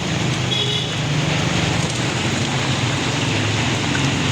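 Steady, dense rain falls outdoors on a road near a swollen river during a typhoon, a continuous broadband hiss that stays even and loud throughout with no talking.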